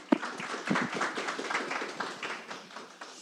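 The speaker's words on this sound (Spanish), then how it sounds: "Les pido un aplauso para ellos para empezar la charla" An audience at a talk on data governance applauds the panel speakers, with a burst of scattered clapping that fades quickly. No voices are heard over it.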